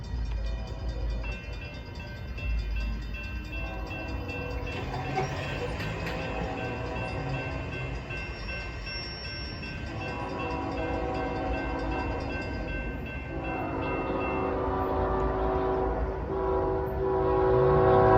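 A fast freight train, Q648, roars past in Cartersville with a continuous loud rumble, while its horn sounds in long sustained blasts over the passing cars.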